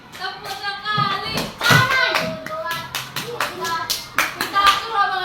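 Children clap in a classroom, with several sharp, uneven bursts of hand claps over about five seconds and children's voices in between.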